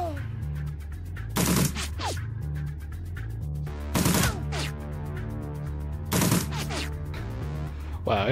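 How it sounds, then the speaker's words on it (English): Submachine gun fire in Shadowrun Dragonfall: three short, loud bursts of rapid shots spaced a couple of seconds apart, each followed by smaller impacts, over a steady low musical background. "Wow, I'm really bad with that SMG."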